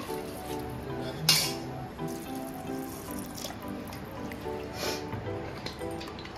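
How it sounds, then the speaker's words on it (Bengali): Water pours into a pressure cooker holding mutton trotters, a steady trickling wash with a sharp metallic clink near the start and light splashing throughout. "এখন দিয়ে দিচ্ছি জল"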